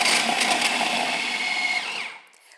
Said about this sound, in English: I'm gonna close the blender. It's time to blend,